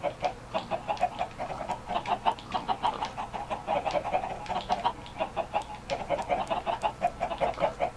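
Chickens cluck steadily in the video game Minecraft on an animal farm, a dense, continuous chorus of short pulsed clucks at moderate loudness with no talking.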